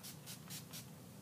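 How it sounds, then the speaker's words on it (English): Four quick spritzes of makeup setting spray misted onto a face, each a soft, airy hiss in an even rhythm, close and gentle, with no talking. "it is time to spray some more of my setting spray"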